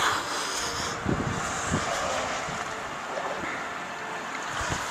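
Cold winter wind blows outdoors at around freezing, a steady moderate rush with a few soft buffets against the microphone and no voices.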